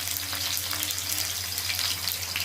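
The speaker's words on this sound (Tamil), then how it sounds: "கடுகு சேர்த்துக்கோங்க கடுகு பொரியட்டும்" Mustard seeds spluttering in hot oil in a pan while an eggplant curry is being made, a continuous bright fizzing hiss with steady low hum beneath and no talk.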